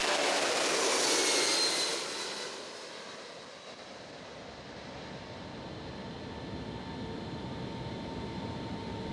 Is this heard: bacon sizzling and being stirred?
no